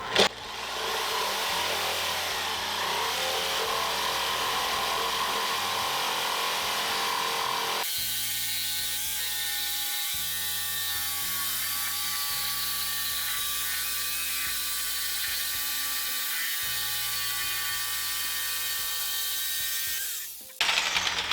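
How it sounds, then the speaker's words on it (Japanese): Bosch PST800PEL jigsaw ripping PF lumber lengthwise along the grain, a loud continuous motor whine with steady blade buzz that shifts pitch partway through, then cuts off near the end. "PF 材を縦に切ってみます。"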